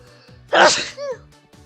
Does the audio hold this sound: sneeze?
yes